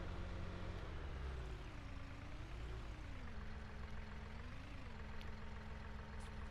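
A small Massey Ferguson 5613 tractor engine in Farming Simulator 19 drones steadily, a low idling rumble with a pitch that dips and rises slightly as it works, loud and close with no voices.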